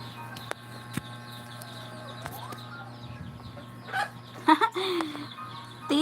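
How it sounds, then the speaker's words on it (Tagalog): Chicken clucking calls, mostly faint and scattered, grow louder near the end over a steady low hum and quiet background activity. "Umalis ang manok."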